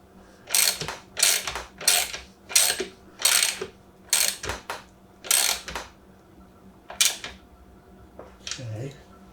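A ratchet wrench tightens the chain adjuster bolt on a 2013 Yamaha R6 sport bike, giving a series of about ten close, rhythmic clicking bursts, each a short ratcheting run, with a faint voice near the end.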